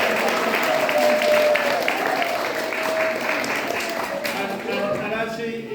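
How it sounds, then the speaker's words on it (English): A crowd claps steadily in sustained applause, a dense wash of hands that carries on for several seconds with a faint tone underneath. "I just want us all to give us a big round of applause for ourselves"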